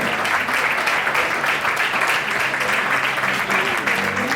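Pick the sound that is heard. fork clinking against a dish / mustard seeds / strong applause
strong applause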